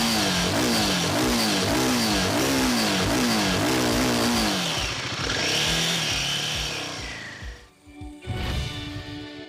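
A Royal Enfield Guerrilla 450 single-cylinder motorcycle accelerates hard. Its loud, close engine climbs through several rapid rev sweeps and gear changes, then eases off, dips briefly and picks back up.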